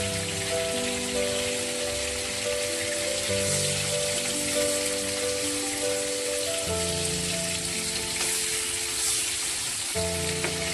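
Koral fish frying in hot oil in a pan, a loud, steady crackling sizzle running continuously with no talk.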